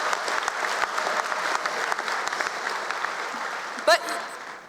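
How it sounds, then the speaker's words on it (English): A graduation audience at a Burlington high school ceremony bursts into sustained applause, a dense wash of many hands clapping throughout, with a brief loud bump near the end. "You can applaud."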